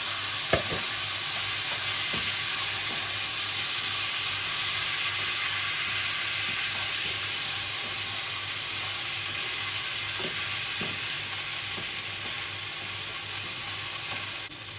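Rice and butter sizzle in a pot for pilaf, a loud continuous frying hiss broken by a few sharp stirring clinks and scrapes, with no talk.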